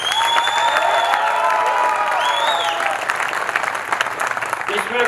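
A crowd at a comedy poetry gathering breaks into sustained applause and cheering, with whistles and shouting rising over steady clapping that continues, slightly uneven, throughout.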